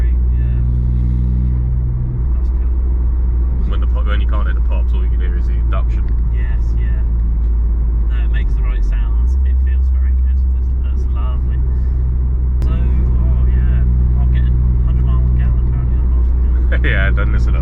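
A 270bhp Ford Fiesta ST2's engine induction roars as a steady, loud, low drone throughout, with voices talking over it.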